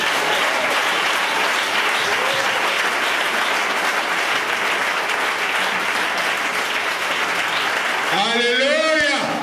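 A church congregation at a revival service applauding loudly and continuously, a thick wall of clapping close and unbroken, with a voice rising briefly over it near the end.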